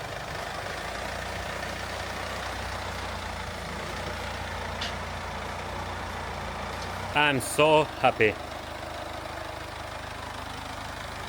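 A Mercedes A-Class car engine idles steadily with a low rumble throughout, while a person briefly speaks near the end.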